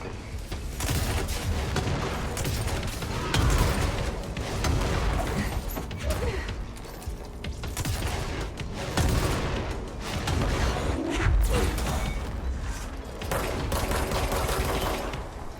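Sustained gunfire from the action game Control, loud and dense with repeated bursts and heavy booms running throughout, with no talk over it.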